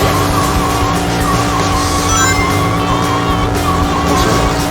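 Cars from the Sonic Adventure video game on Dreamcast drive and skid, with steady loud engine drone, tire squeals and game music layered continuously throughout.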